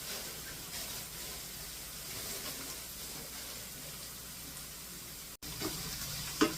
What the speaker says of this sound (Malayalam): ഇവിടെ കുറച്ച് നമ്മൾക്ക് കരിയാപ്പില ഇട്ട് കൊടുക്കാം.